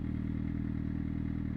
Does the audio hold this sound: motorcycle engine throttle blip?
yes